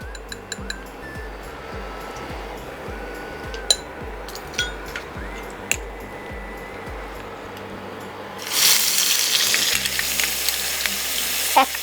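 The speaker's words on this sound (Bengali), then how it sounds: "এটা হালকা গরম হয়ে গেলে এর মধ্যে আমরা পেঁয়াজ বাটাটা দিয়ে দেবো" Onion paste goes into hot oil in a kitchen while a chicken rezala is being cooked. A few utensil clinks and taps come first, then a loud, steady sizzle and hiss starts up as the paste hits the oil.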